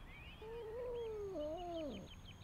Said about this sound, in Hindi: यहाँ एक बिल्ली दरख्त में फंस गई है।